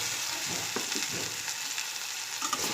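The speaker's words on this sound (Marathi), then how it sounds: "आता ही भेंडी आता यामध्ये व्यवस्थित मिक्स करून घ्यायची आहे" Chopped okra frying and being stirred in a hot pan, a steady broadband sizzle with soft scraping strokes of the spoon throughout, no voices.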